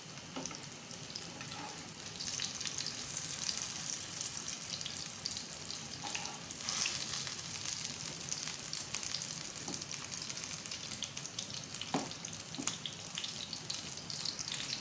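Beef shami kebabs shallow fry in a pan over medium-low heat, giving a steady, dense sizzle throughout, with a few faint clinks and scrapes now and then.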